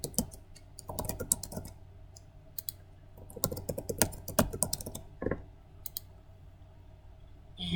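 Someone types a password on a computer keyboard, with bursts of close, quiet key clicks in quick irregular runs separated by short pauses and no talk.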